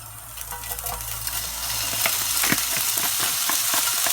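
Bacon lardons sizzle and crackle steadily in a hot wok, with occasional scraping and clinks of stirring, heard up close and without talk.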